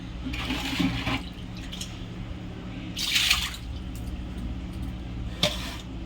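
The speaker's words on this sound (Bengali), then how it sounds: "এবারে আমি কেটে নেব এই যে জলটা কেটে নেবো" Water is poured off washed catfish, with sloshing splashes and gushes in a few short bursts over a steady low background hum.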